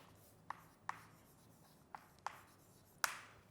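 Faint chalk-like taps and scratches on a board during a physics lesson: five short, sharp strikes spread irregularly over a few seconds against a quiet room background.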